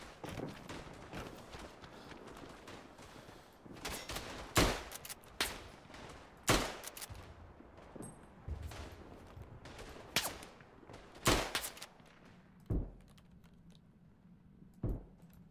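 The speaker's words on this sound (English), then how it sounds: "That suppressive fire was actually quite brutal." Bolt-action rifle fire in the Tannenberg World War I shooter game, sharp repeated gunshots spaced irregularly across the clip, with crackling distant fire and clatter between the loud reports.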